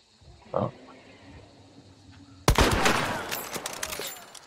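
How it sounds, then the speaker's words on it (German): Gunshot from a sniper rifle in the video game Hunt: Showdown: a faint thump, then a single loud, sharp blast with a long rolling echo that fades slowly. "Schuss."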